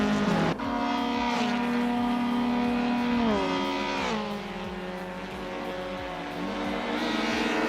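Race cars including a 1999 Honda Civic Si racing, loud close engine howl with revs climbing and dropping through gear shifts, continuous with no talking.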